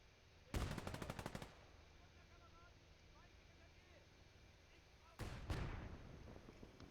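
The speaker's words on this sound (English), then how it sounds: "Oh, that's a mortar." Gunfire in the Call to Arms: Gates of Hell war game: two bursts of rapid, close, loud shots with a quieter stretch of distant battle ambience between them.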